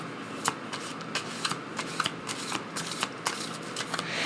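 Tarot cards shuffled by hand, a rapid run of crisp riffling flicks and soft slaps repeating in a quick uneven rhythm, close and clear with no talk over them.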